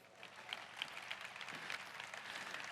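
A seminar audience gives itself a round of applause, a fairly quiet, even patter of many hands clapping with a few sharper claps standing out, lasting a few seconds.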